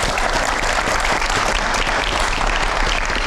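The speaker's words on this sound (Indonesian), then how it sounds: "kita tepuk tangan dulu dong" A studio audience at an Indonesian talk show breaks into loud, sustained applause, a dense wash of many hands clapping steadily for the whole stretch with no voices on top.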